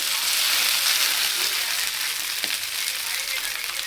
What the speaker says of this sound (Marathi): इथे रात्रीचा मटकी भात केला होता तोच नाश्त्यासाठी गरम करत करत आहे